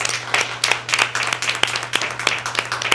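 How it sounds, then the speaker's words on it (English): An audience at a book fair applauds the authors, a dense, even stretch of many hands clapping at moderate distance, steady throughout. "So I want to give the authors a round of applause."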